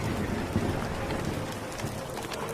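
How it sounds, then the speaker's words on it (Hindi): A cartoon storm with heavy rain and thunder: a dense, constant hiss of falling rain with a low rumbling undertone, loud and continuous, with no speech. "तभी तेज तूफान आता है"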